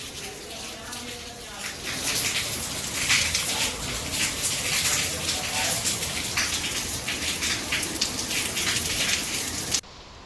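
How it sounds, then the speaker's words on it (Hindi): Heavy monsoon rain pours steadily in India under dark clouds, a dense continuous hiss of falling water with a speaking voice mixed in, cutting off abruptly near the end. "आज सुबह से ही जोरदार बारिश हो रही है।"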